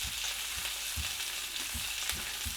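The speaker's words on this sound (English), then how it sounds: "the bacon's browning up rather nicely" Bacon and sausages frying in a pan on a stovetop, a steady soft sizzle with faint low thumps recurring every half second or so, quiet and alone.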